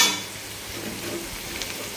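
Egg curry simmers and sizzles in a pan with soft stirring, a steady close bubbling hiss with occasional light scrapes.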